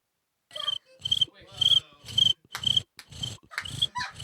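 A voice imitates a cricket with a steady series of about eight close, shrill chirps, each carrying a buzzy low undertone, separated by brief silences.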